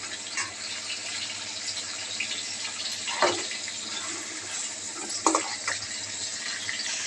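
Chopped vegetable pieces sizzle in a pan with onions for veg biryani, a steady broadband hiss with a couple of brief louder surges as the pieces are stirred.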